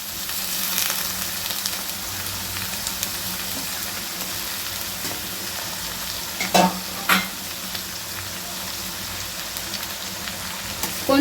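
Bitter gourd frying in oil with onion over a low flame, giving a steady soft sizzle throughout, with a couple of brief louder clatters partway and near the end.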